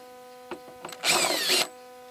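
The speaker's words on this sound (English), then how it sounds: "So we're gonna measure 3 inches from the bottom of the pot, and we're gonna drill our hole." A power drill with a 1/2 inch spade bit bores through a plastic plant pot in one short, loud, whining burst of about half a second. A few light knocks come before it.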